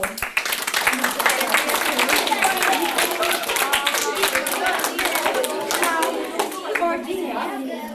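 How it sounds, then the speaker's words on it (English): Children clap during a storytelling session of a Cuban and Puerto Rican folktale, a lively burst of many small hands with sharp individual claps and kids' voices mixed in, tapering near the end. "Give him an applause."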